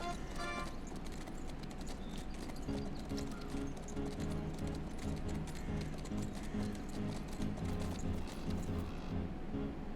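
Horse hooves clip-clop steadily in the fantasy game Legends of the Round Table, a fast continuous patter of hoofbeats over a dense ambient backdrop for the whole stretch.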